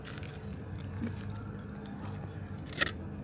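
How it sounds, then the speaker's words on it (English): Bite into a crunchy tortilla breakfast burrito, a soft crunch and crackle close to the mic, with one sharper crunch near the end over low background hum. "It's a good crunch to the tortilla."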